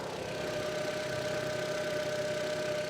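An early Audi TT with an APX engine idles close by, a steady even hum with a faint tonal whine and a soft ticking pulse underneath, no voices.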